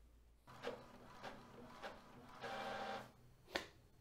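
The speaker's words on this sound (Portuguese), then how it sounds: "Vou mandar iniciar. O básico, né? Da impressão, hein? Aí vê que vai imprimir normalmente." An Epson L4260 inkjet printer running a print job over Wi-Fi, with mechanical whirring and feed bursts that rise and fall, a longer printing passage, then a sharp click near the end, close and moderately quiet.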